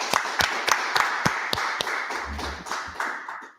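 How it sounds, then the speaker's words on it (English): A congregation at a Feast of Unleavened Bread closing gathering claps, a bed of many hands with several louder, sharper individual claps standing out near the front before it thins and fades. "So clap it up."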